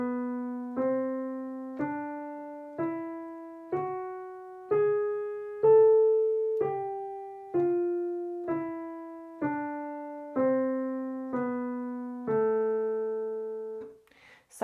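An A melodic minor scale plays on piano with the right hand, one clear note at a time at an even pace, rising with the raised sixth and seventh, then falling back in natural minor, near and alone.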